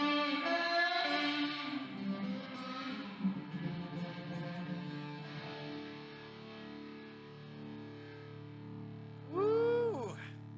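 Sustained guitar tones drenched in heavy reverb, notes washing out into a long shimmering tail, then a bright bent-note swell near the end.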